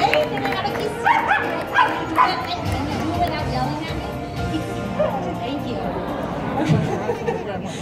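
A trained dog performs on stage at the Animal Actors show at Universal Studios Hollywood, letting out several short barks, yips and whimpers amid crowd chatter while a presenter talks.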